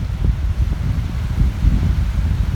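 Strong wind rips across Big Bear Lake in California under a high wind warning, a loud low rumbling roar buffeting the microphone steadily with gusty swells and no voices.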